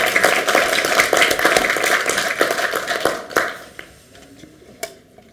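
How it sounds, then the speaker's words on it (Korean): Attendees at a Democratic Peace Party supreme council meeting applaud to approve a pledge, a loud, dense burst of clapping that thins into a few scattered, closer claps before fading out. "박수로 인정해 주시고 추인해 주시기 바랍니다"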